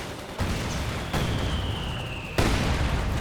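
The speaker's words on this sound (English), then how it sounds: "Great mortar hit there on the Panzer Grenadiers." Mortar shells exploding on Panzer Grenadiers in the strategy game Company of Heroes 2, three heavy booms in succession over a constant rumble of battle.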